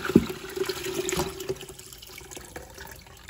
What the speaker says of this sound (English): So I have my little strainer in a bigger bowl, and I'm gonna go ahead and just dump this right in.